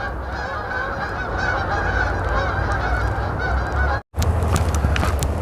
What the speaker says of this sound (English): the geese are flying north